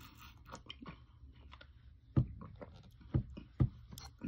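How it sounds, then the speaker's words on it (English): Squishy clay slime being chewed-style crunched and pressed by hand, giving soft, close, irregular squelches and pops with a few louder crunching bursts and no talking. "I can double back and crunch on that."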